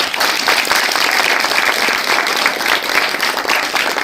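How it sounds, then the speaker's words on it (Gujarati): An audience at a film screening of a horror comedy applauds the director, with dense, loud, sustained clapping from many hands and no speech on top. "ડિરેક્ટર માટે સખત તાળીઓ થઈ જાય"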